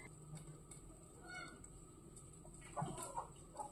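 Chickens cluck quietly and intermittently in the distance, with a few louder clucks toward the end over faint farmyard background noise.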